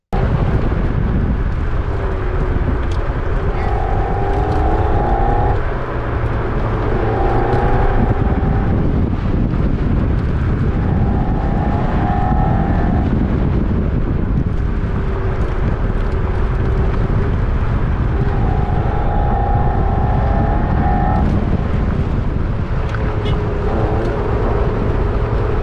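A Toyota MR2 engine held at steady throttle through an autocross run, a loud continuous drone with rising and falling gear-change sweeps over heavy wind buffeting.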